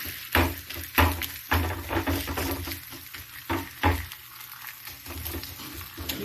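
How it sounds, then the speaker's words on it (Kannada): Masala akki roti fries in oil on a hot griddle, making a steady sizzle broken by repeated louder crackling bursts at irregular intervals, with no voices. "ಹೆಂಚು ಕಾಯ್ದಿದೆ. ಹೆಂಚಿಗೆ 1 ಸ್ಪೂನ್ ಎಣ್ಣೆ ಹಾಕ್ಬಿಟ್ಟು ನೋಡಿ"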